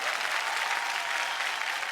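A studio audience at a Marathi TV show claps in a dense, steady burst of applause that stays at an even level from start to finish.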